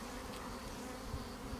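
Honey bees buzzing at a newly made hive split, a steady close drone with no talking over it.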